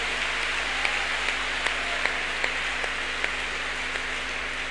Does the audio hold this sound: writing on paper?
no